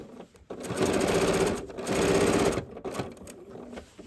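A sewing machine stitches fabric for a quilted tree-shaped trivet in two sustained bursts of rapid, loud mechanical whirring, with brief pauses and quieter handling between them.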